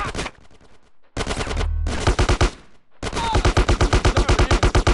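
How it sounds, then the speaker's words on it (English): Gunfire from GTA San Andreas comes in loud, close bursts: rapid rhythmic automatic fire broken by short silences, with shouted voices mixed in. "Get some suppressing fire in there!"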